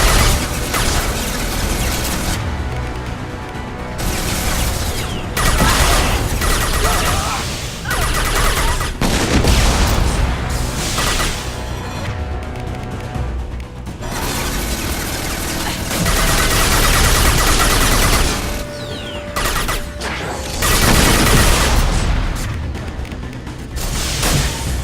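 Sustained gunfire from a Mass Effect 2 firefight, with dense overlapping bursts and booming shots sounding loud and continuous throughout, rising and falling in intensity with brief lulls between volleys.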